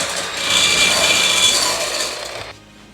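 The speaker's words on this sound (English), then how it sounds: "Then with another whisk, you whisk these so they're white" Egg whites whisked by hand in a bowl until white and fluffy like meringue, a steady loud scraping whirr for about two and a half seconds that stops abruptly.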